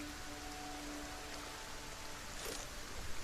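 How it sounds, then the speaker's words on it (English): Rain falls steadily in a cozy solarpunk crafting survival game, a soft, even hiss of drops heard on its own, faint and continuous. "it is raining right now"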